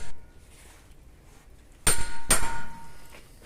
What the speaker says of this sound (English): Easiest thing to do this with is an impact screwdriver. Get it in and whack it.